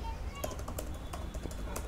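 Typing a name on a computer keyboard gives a quick string of soft, light key taps, a few slightly firmer presses, under a faint background hum with low speech nearby.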